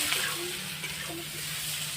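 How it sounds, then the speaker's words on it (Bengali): Onion pieces frying with peas and bay leaf in a pan while making a Pahadi chicken recipe, giving a steady, close, fairly quiet sizzle with faint stirring and no talk. "পেঁয়াজটা একটু লাল করে ভাজা হবে।"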